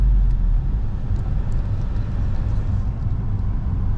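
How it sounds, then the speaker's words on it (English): A car out on a road test drive, heard from inside as a steady, loud low engine and road rumble that holds constant throughout with no talk. "We've gone for a little drive, haven't we, Chrissy? Yeah. A little road test."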